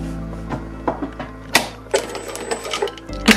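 A sewing machine stitches along a shirt placket, half a centimetre from the edge, with short uneven bursts of needle clatter and clicks over a steady low motor hum, fairly close and heard alone.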